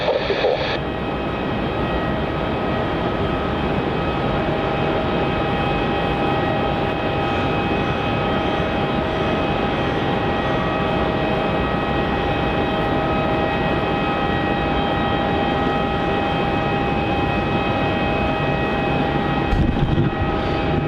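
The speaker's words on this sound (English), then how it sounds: "our next arrival now is QF 154 arriving in from Auckland. It's a 737-800 wearing the old Roo livery on runway 16" Qantas Boeing 737-800 in the old Roo livery landing on runway 16 at Melbourne Airport, a steady broad roar of jet engines holding constant and loud from start to finish.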